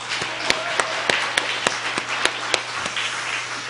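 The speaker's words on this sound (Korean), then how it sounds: "영광의 박수 하나님께 돌려드리십시오" A church congregation at a Korean Thanksgiving Sunday service claps together in a steady rhythm, filling a large room with sharp, evenly spaced claps over a continuous wash of applause.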